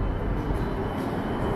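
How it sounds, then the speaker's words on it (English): A broad, steady rumbling roar of an electric train passing close by in Mauritius, continuous and fairly loud throughout. "And it is an electric train"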